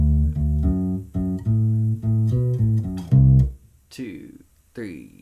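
A U-Bass plays a slow blues ending, a run of deep, round plucked notes closing on a held final note, close and clear, followed by brief talk.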